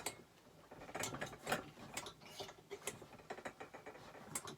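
A Tilley lamp's old stick hand pump squeaks and clicks in repeated strokes, a quiet rhythmic mechanical rasping close by.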